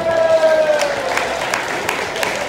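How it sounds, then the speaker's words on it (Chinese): Guests applauding at a wedding dinner reception, a continuous crowd clapping that stays fairly loud throughout, with a faint tone drifting underneath early on. "可不可以给自己一个热烈的掌声？"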